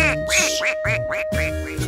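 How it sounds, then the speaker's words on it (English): A run of loud, nasal duck quacks in quick succession, close up and repeating steadily over a low background hum. "Quacking like a ducky, I'm making ducky sounds."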